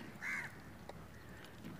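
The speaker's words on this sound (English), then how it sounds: "cow cow of the crows" A crow caws once, a single harsh call somewhat distant against a faint outdoor background, followed by quieter ambient sound.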